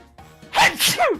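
A single close sneeze, a quick sharp burst with a short breathy lead-in, loud against a quiet background.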